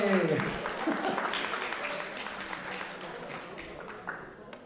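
An audience at a talk on phytotherapy and apitherapy breaks into applause, loud at the start and gradually thinning out over a few seconds, with murmuring voices underneath.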